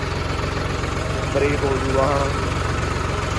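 A tractor engine idles with a steady low rumble and vibration throughout, while people talk over it during earthen fill work at night.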